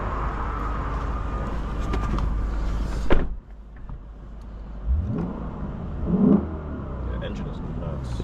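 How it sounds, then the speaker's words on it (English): A 2022 Lexus RC F with stacked F exhausts gives a short, rising engine rev over a steady idle, close by, with a thump like a door shutting. "The engine is nuts. It sounds so good."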